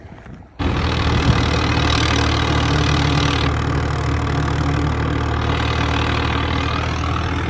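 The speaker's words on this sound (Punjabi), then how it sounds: "ਟਰੈਕਟਰ ਵੀ ਲਾ ਆਂਦਾ ਮਸ਼ੀਨ ਦੇ ਚੱਕਰ ਘਟ ਜਾਂਦੇ ਆ" A tractor engine powers a straw-chopping machine on a farm, a loud, steady mechanical drone that starts abruptly after a brief quiet moment and then runs on without a break.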